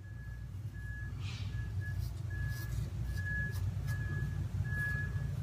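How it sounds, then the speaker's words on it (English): Reversing alarms from vehicles at an active construction site beep at a steady, regular rhythm in the distance over a constant low rumble of machinery. "I'm not sure you can hear the beeping."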